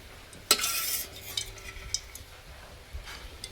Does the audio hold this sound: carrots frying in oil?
yes